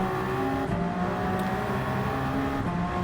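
A steady, buzzing race car engine in Gran Turismo 7 drones continuously at a fairly constant pitch during a Petit Le Mans endurance race, with no talking over it.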